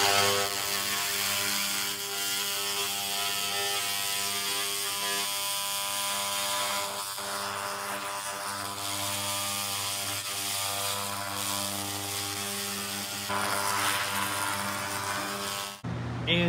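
A 2000W continuous wave laser cleaning machine etches the surface of a drum, giving a steady, loud mechanical hum with strong tonal bands that holds for about sixteen seconds and breaks off near the end.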